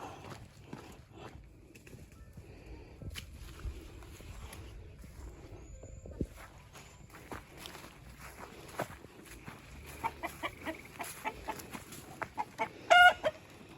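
Chickens cluck softly close by amid rustling and footsteps, with a few sharper squawks near the end.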